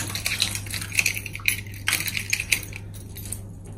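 Keys jangle and clink in short bursts while a car key is picked out at home, a close metallic rattle that comes and goes over a low steady hum, then fades to quiet.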